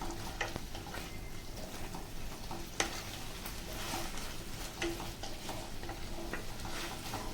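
Gobi manchurian, a cauliflower dish, is stirred in a pan over high flame. A steady, hissing sizzle runs throughout, with quiet spatula taps and scrapes scattered over it.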